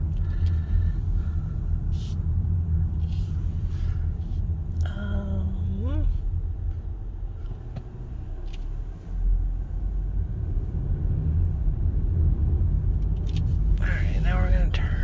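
Car interior rumble while driving, the low road and engine drone steady throughout, with someone talking over it and a brief tonal sweep partway through.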